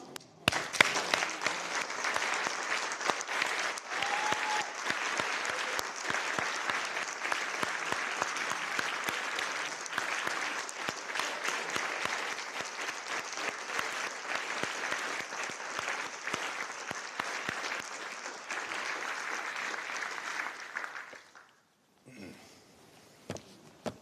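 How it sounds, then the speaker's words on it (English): An audience at a mayor's farewell address gives a long round of applause, a broad sustained roar of clapping lasting about twenty seconds before stopping abruptly, followed by a brief faint sound. "you do deserve that round of applause"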